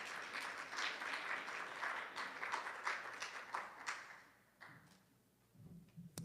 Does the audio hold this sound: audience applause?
yes